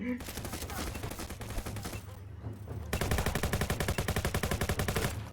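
Rapid automatic gunfire in the browser shooter Venge.io, dense close bursts that pause briefly and then resume as a fast, loud, continuous rattle.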